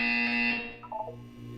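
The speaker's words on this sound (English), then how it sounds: "When you hear the buzzer, look down at the floor" A loud, harsh electronic buzzer from the Portal 2 test chamber blares for about half a second and cuts off, followed by a few faint tonal blips and low hum.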